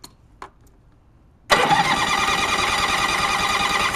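A Honda HT38 lawn tractor, propped on blocks, cranks and fires at full choke after a couple of faint clicks, then settles into a loud, steady engine run close by.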